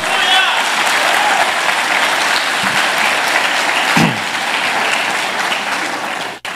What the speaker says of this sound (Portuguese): Vamos aplaudir Jesus, que ele é lindo e maravilhoso.